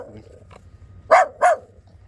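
A female Jack Russell terrier gives two sharp, close barks in quick succession. Faint low rumbling sits underneath.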